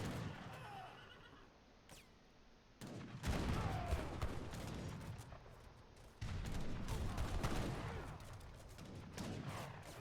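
Heavy cannons and gunfire in a 3v3 Age of Empires 3 tournament match, volleys of booming shots and crackling musket fire pressed close together, with horse whinnies mixed into the busy battle noise.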